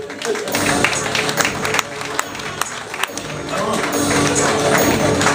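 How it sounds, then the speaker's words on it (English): An audience at a comedy show in a restaurant and lounge claps and cheers for a clean comedian, sustained applause with a host's voice talking over it. "Keep clapping it up for Stevieweevie"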